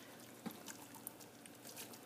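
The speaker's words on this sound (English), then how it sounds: "Notice I leave all the juice and everything in there, and you just pour it in over the chicken." Canned corn with its liquid is poured from the can over chicken in a crock pot, a quiet, close wet trickle and slosh with a couple of soft plops.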